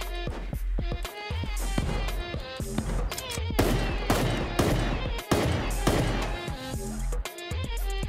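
Rapid gunfire in the Super Animal Royale battle game, dense bursts of fast shots cracking repeatedly over game music and sound effects, with brief pauses between volleys.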